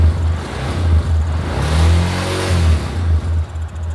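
A Yamaha Lander 250 motorcycle engine revs up loudly and close by during a charging-system test, the steady mid-pitched drone rising in pitch as the throttle opens, then dropping back briefly and climbing again.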